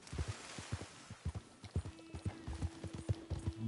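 Horse hooves clip-clop at a steady walking rhythm in Red Dead Redemption 2, close and quiet, with a faint tonal hum partway through.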